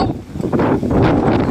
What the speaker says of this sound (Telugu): గాలి, వాన, బట్ వర్షం, గాలి ఓన్లీ గాలి మాత్రమే ఉంది, వర్షం లేదు.